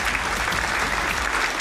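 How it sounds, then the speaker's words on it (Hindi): Loud, steady applause from an audience at an RCM business anniversary event, a dense, unbroken wash of clapping with no voices over it. "जोरदार तालियों के बीच में"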